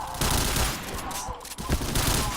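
In a shooting video game, a dense barrage of gunfire crackles in quick overlapping bursts, loud and close throughout the short stretch.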